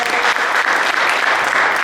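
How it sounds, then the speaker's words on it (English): A round of applause at a construction company's Christmas party, a dense, loud, continuous crowd clapping that fills the whole short stretch without pause. "1 more round of applause."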